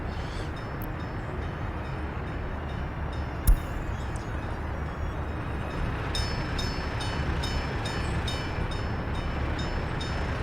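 Trains running in the Workers & Resources: Soviet Republic game, a continuous rolling rail rumble at steady volume, with a brief sharp click near the start and faint rhythmic ticking later.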